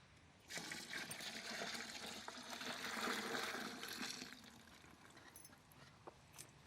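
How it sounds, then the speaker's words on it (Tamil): Boiled milk pours steadily from a vessel into an ice apple milkshake in a village kitchen, a continuous moderately loud liquid rush lasting several seconds before tapering into a softer trickle. "காய்ச்சின பால் ஊத்திக்கலாம்."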